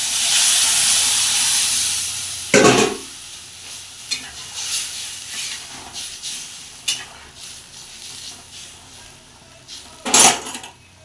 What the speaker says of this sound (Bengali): তো চলো আস্তে করে জল ঢেলে দিই।